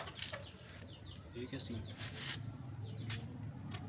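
Chickens and a rooster clucking in a farmyard after rain, short bursts of calls scattered through the clip under someone talking close by.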